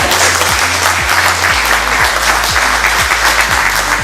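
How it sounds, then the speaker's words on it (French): Audience at a closing ceremony of a solidarity event in Auboué breaks into steady, loud applause, a dense wash of many hands clapping continuously with no speech over it, while a low rhythmic thump repeats underneath. "Vous pouvez applaudir."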